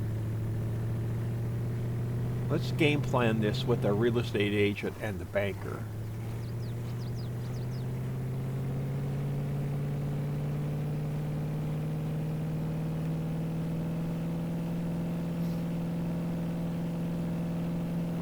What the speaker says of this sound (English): I know it takes you a while to rev the engine up